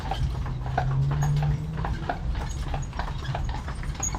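Hooves of a single carriage horse clip-clop steadily on a street during a carriage tour in Old Town Wilmington, North Carolina, with the rhythmic beats close and continuous under a low rumble of wheels.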